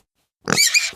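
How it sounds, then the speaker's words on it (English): Pig grunting and squealing, one short harsh noisy burst after a moment of silence, close and fairly loud. "Pig."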